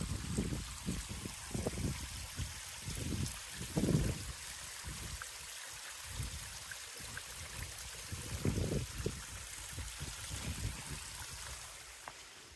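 Steady soft trickle of a small creek flowing through woodland on a coastal Oregon hillside trail, continuous and fairly close, with faint low rumbles and scuffs mixed in.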